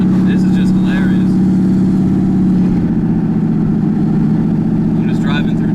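A turbocharged LSX-swapped Chevrolet Colorado work truck cruising through town, its steady low engine drone and exhaust rumble running continuously and close, with speech over it; the pitch shifts slightly midway.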